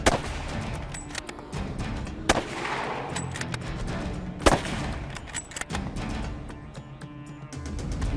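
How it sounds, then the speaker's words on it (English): A rifle fires during a brown bear hunt, with several sharp, loud cracks spread across the stretch over an outdoor background and no talking. "Okay, make this shot good."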